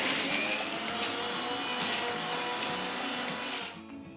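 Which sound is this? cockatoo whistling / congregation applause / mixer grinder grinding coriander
mixer grinder grinding coriander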